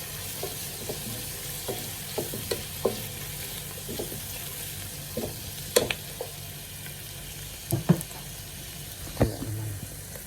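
Chicken pieces brown in a frying pan for tinola, a steady close sizzle broken by scattered knocks and scrapes of a utensil stirring, with no speech.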